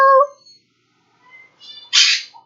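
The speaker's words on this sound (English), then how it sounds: "The finches are responding to me." Pet finches chirp indoors in a few short, high calls that rise to a brighter burst near the end, close to the mic after a quiet gap.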